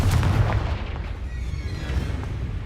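The Confringo explosive spell in the video game Hogwarts Legacy, a heavy boom at the start that fades into a rumbling decay, loud and close.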